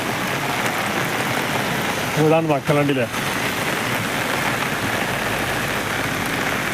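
Heavy rain pours steadily over NH 66 at Randathani, a dense continuous hiss throughout, with someone talking briefly near the middle.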